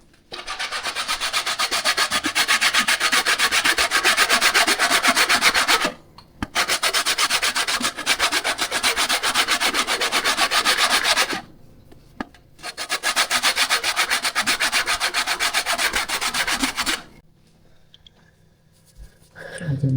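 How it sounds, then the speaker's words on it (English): Citrus peel is scraped on a grater for zest in a Jamaican fruit cake, giving rapid rhythmic rasping in three long bursts separated by short pauses. "Get as much zest as possible."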